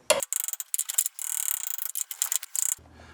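Ratchet wrench working a stuck nut loose on a 1965 Mustang during gas tank and leaf spring removal, close and loud rapid clicking in short bursts and longer runs, pausing between strokes, then stopping.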